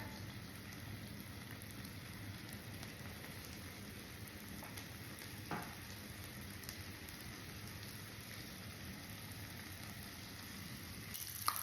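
Faint steady sizzling of bacon frying in a pan, a soft crackling hiss with occasional small pops, no talking.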